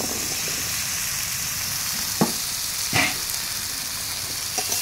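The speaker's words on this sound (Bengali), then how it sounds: "এখন কচু এবং কেটে রাখা আলুটা অ্যাড করে দিচ্ছি।" Taro and cut potato hitting spiced oil in a pan, giving a steady close sizzle with a few sharp clacks of ingredients or a spoon against the pan.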